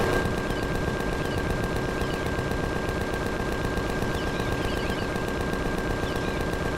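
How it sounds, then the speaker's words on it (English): Continuous machine gun fire in the space game Empyrion, a dense, rapid, unbroken stream of shots held at a loud, even level throughout with no pauses and no voices. "Now, I guess I can just kill these with my machine guns too."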